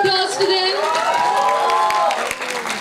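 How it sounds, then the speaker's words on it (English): A crowd at a Delhi promotional event for the film Padman applauds and cheers the cast, including Akshay Kumar. Dense clapping runs throughout, with loud whoops and shouting layered on top. "Can we hear a huge round of applause for them?"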